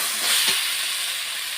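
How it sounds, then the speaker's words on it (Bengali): Crabs dropped into frying spice masala set off a steady, loud, close sizzling hiss that swells briefly at the start and then holds evenly, with no talking. "এবার মশলার মধ্যে কাঁকড়াটা দিয়ে দেবো।"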